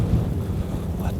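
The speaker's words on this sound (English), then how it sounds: "Let this wind die." Wind gusting across an open field during a deer hunt, buffeting the microphone with loud low rumbling that swells briefly and stays up, no voices heard.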